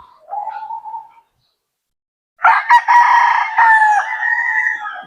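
A Talisay gamecock rooster crows close and loud: a short call first, then after a pause a longer, full cock-a-doodle-doo with wavering, drawn-out notes.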